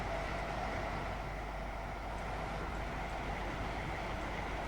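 A Class 350 electric train of eight coaches runs between Northampton and London Euston in Train Sim 2020, a steady rolling rumble with a faint motor whine, heard continuously and alone.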